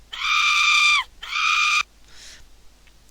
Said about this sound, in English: And you hear another screech coming from the trapdoor.